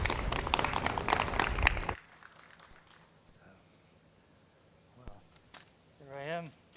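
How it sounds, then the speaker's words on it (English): A short burst of audience applause at a hotel sales and marketing association event fills the first two seconds, then fades into quiet room tone and someone speaking. "give him a big round of applause,"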